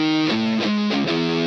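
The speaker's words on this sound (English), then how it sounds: "kind of heavily EQ'd, almost telephone effect type sound." A thin, band-limited electric guitar tone recreating a Dual Rectifier sound on a Fractal unit, with a boxy, telephone-like filtered quality, playing a few sustained chords in succession.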